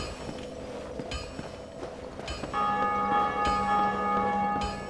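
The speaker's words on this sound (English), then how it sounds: "Someone just rang the Bell of Awakening." Bell of Awakening in the video game Dark Souls Remastered tolls with a few loud, ringing metallic strikes whose long sustained tones overlap and swell toward the end.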